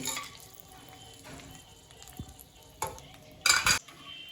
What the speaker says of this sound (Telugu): మనమైతే మంచిగా మిక్స్ చేసుకుంటున్నాం ఆయిల్లో